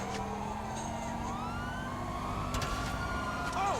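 A police siren wails in the GTA 5 video game, a rising and falling electronic tone over engine rumble and game noise.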